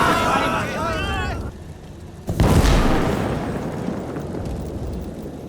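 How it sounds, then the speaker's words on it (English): In the WWII strategy game Call to Arms – Gates of Hell: Ostfront, a Panzer IV F2 and a Panzer III Flame tank explode in one sudden heavy boom that rolls off into a long, rumbling decay, following a voice. "the Flame variant Panzer had a fire effect left after it exploded"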